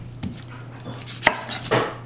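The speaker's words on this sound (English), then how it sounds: "I'm just going to cut this into fours" Knife cutting an onion into quarters on a board, a few sharp separate chops and knocks spaced irregularly over a low steady kitchen hum.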